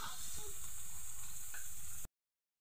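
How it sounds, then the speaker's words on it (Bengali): Spice paste sizzles and fries in a pan for a jiyol fish curry, a steady close hiss lasting about two seconds before cutting off abruptly. "এবার ভালো করে আমি মশলাটাকে কষিয়ে নেব।"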